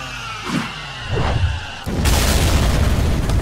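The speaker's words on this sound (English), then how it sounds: "Or not, they could just cause an explosion." A cartoon explosion from a Friday Night Funkin' animation: a low boom bursts out suddenly and then rolls on as a steady, loud rumbling roar to the end.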